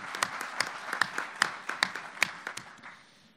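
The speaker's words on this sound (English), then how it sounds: "So let's give them a round of applause first." A small real estate conference audience offers a brief, sparse round of applause for panelists, individual claps distinct and fairly close, tapering off within a few seconds.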